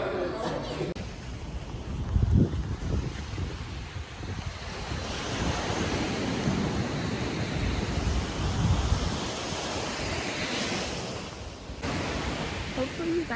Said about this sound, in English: Hopefully you guys can hear me and the waves aren't crashing too loudly